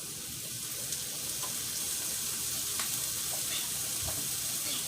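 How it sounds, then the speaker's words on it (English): Soy sauce hits a hot frying pan, setting off a loud, steady sizzle and crackle that runs the whole time without pause, close by and with no voices. "I'm going to add a little soy sauce"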